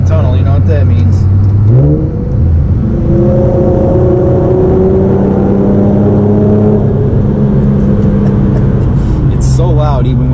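A tuned Infiniti G37 revs loudly inside a tunnel, its engine note climbing and holding in a long roaring sweep, heard from the cabin, and it echoes heavily off the walls.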